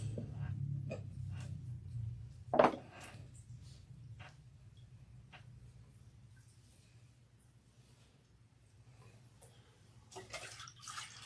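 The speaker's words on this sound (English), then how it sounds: "Now I rinse." Water runs and splashes while shampoo is rinsed out of hair, starting as a low steady rush, then a sharp splash, then quieter trickles and drips before the water picks up again at the end.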